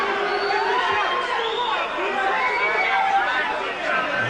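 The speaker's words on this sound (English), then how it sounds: "the local crowd, the bias there, is they're booing the referee" Local crowd at a boxing match booing the referee, a dense, loud, continuous roar of voices and jeers filling the arena, with no individual words standing out.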